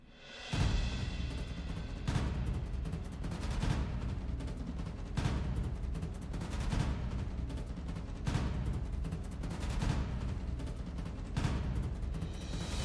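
Rapid, dense gunfire in a mobile shooter match, with repeated loud bursts and booms roughly every second or two, close and continuous with no speech.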